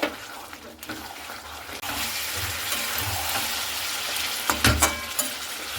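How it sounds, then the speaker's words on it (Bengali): Chicken frying in a pan over a low gas flame gives a steady sizzle, broken near the end by a few louder scraping and clattering bursts as the pieces are stirred. "কমিয়ে কমিয়ে কিন্তু এভাবে খুব সুন্দর করে নাড়াচাড়া করে নিতে হবে"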